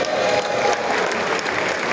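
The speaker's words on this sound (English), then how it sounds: "Another round of applause." Applause from a crowd at an Urhobo cultural gathering, steady and loud throughout the short stretch with a faint tonal hum beneath.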